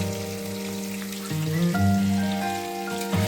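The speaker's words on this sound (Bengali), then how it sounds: "মাছগুলো এখন আমি কড়াইয়ে দিচ্ছি" Aar fish frying in an iron wok gives a steady, close crackling sizzle like rain on a surface, with a low tonal hum underneath throughout.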